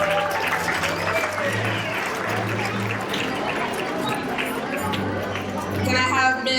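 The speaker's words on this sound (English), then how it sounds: "Let's have a round of applause for Ms. Sierra's class." Audience applause at an elementary school sixth-grade graduation ceremony, steady clapping filling the room throughout, with voices talking over it.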